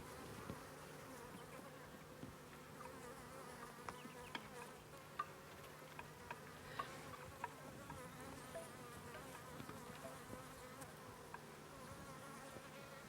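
Honey bees buzzing around a backyard top bar hive, a faint continuous drone with individual bees passing close now and then, no voices.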